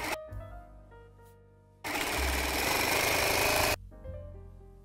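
A sewing machine stitches white tape onto a lace curtain in one steady, loud, close burst of about two seconds, with quieter tonal background sounds before and after.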